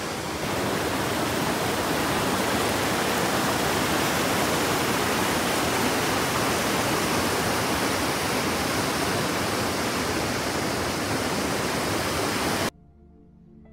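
A river flows steadily at a fishing spot, a dense, loud roar of rushing water filling the scene for about thirteen seconds before cutting off abruptly into near silence.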